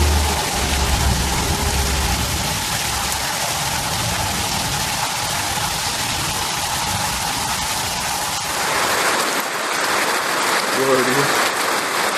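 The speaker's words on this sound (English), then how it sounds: "It's hailing everywhere." Hail falling outdoors in a strange weather event, a dense steady hiss and clatter of ice pellets that stays loud throughout, shifting to a harsher, brighter texture in the last few seconds.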